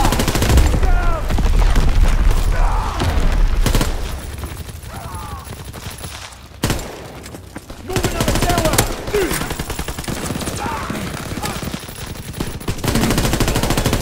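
Artillery and rapid gunfire boom and rattle in dense bursts during a Call of Duty WWII multiplayer match, with a short lull midway before the loud firing resumes, and voices call out under it.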